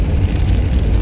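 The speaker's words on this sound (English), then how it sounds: "It just started raining. Hard." Heavy rain beginning to pour hard under a dark storm sky, a dense, loud, continuous hiss of drops drumming close by, with no voices over it.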